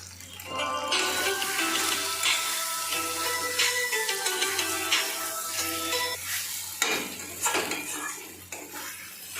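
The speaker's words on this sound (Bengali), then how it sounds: "এই যে এটা চিকেন মশলা একটু দিলাম, এবার একটু নেড়ে চেড়ে জল দিয়ে দেবো।" Chicken with chicken masala stirred in a pan: a utensil scrapes and clinks against the metal repeatedly over a soft sizzle, close and fairly quiet, with no talking.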